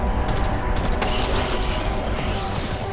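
Rapid gunfire from a Call of Duty zombies match, a dense continuous burst of shots with mechanical clatter that stays loud for the whole stretch.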